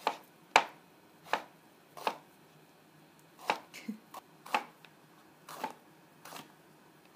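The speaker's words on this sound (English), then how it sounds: "I'm just going to chop this guy up" A knife chops a pepper on a cutting board in sharp, separate knocks, irregularly spaced and then quickening into small clusters, close and clear with no talk.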